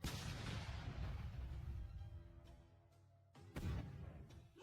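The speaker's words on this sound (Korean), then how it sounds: "아래층에서 큰 폭발음이 들려왔다." A remote-detonated bomb goes off downstairs in a house, a heavy muffled boom with rumbling aftershocks and a second sharp blast near the end, loud and without speech.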